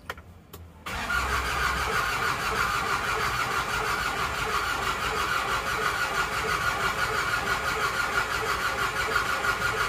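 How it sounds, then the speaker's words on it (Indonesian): A small single-cylinder horse-type diesel engine cranks and catches after a brief silence, settling into a steady, loud, close chugging run that continues without letup. "Oke, kita coba start dulu."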